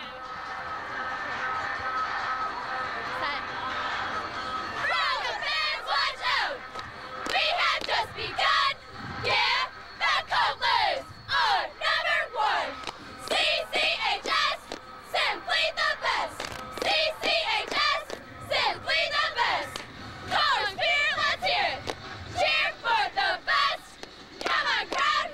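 Cheerleaders at a high school football championship game lead a loud chanted cheer, with rhythmic shouted lines and a yelling crowd joining in for the whole stretch.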